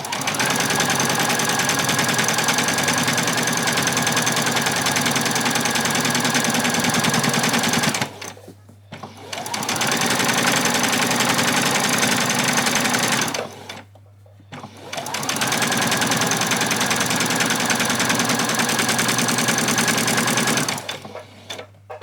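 A sewing machine stitches a French seam on an apron in three long, steady runs, each pausing briefly before starting again, loud and close with no talking.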